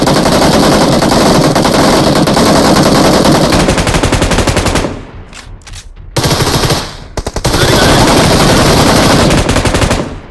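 Loud, rapid automatic gunfire from the mobile shooter game BGMI fills nearly the whole stretch, with a short lull partway through before the bursts resume.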